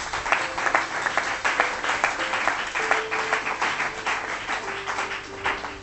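A church congregation applauding during a French-language service, steady rhythmic clapping at moderate volume with a faint sustained tone underneath.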